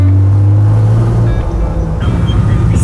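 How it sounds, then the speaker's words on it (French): A Porsche 911 (901) with a naturally aspirated flat-six engine runs loud and close, a steady low drone with a rising harmonic partway through, alone with no talk. "Dans le bout du Flat 6 Atmo, c'est un des bruits les plus mythiques de l'histoire."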